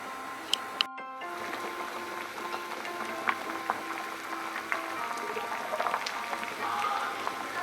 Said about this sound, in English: we're gonna nicely boil this lauki, with thoda sa namak